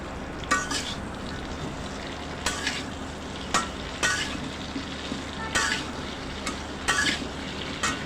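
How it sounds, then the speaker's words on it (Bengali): Vegetables including okra fry in oil in a kadai with a dense, continuous close sizzle, and a spatula scrapes and clanks against the pan every second or so. No one speaks. "তেল দিয়ে এখন সবগুলো সবজি আমি কড়াইয়ের মধ্যে দিয়ে দিচ্ছি। দিয়ে সবজিগুলো একটু ভেজে নেব সুন্দর করে।"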